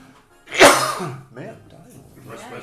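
A sneeze bursts out loud and close during a tabletop role-playing session, a sharp broadband blast followed by people talking quietly over low background noise.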